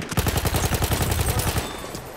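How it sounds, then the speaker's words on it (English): Rapid bursts of enemy machine gun fire in Battlefield 1, a steady run of loud, evenly spaced shots lasting nearly two seconds before the firing stops. "Enemy machine gun."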